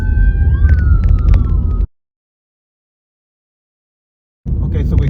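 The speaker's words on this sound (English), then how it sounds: "Now we got the ambulance." An ambulance siren wails from outside a moving car. Its sweeping tones sit over road rumble, then the sound cuts out abruptly, and the road noise returns after a short gap.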